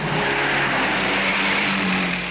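A car engine accelerates steadily, a dense mid-range roar held at constant loudness for a couple of seconds, close and without talk.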